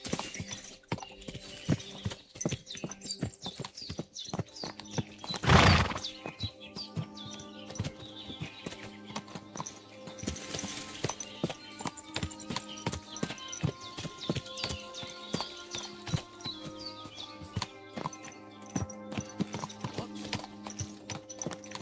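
Horse hooves clip-clopping steadily on a road in the video game Kingdom Come: Deliverance II, with one loud snort or whinny partway through and music playing faintly underneath.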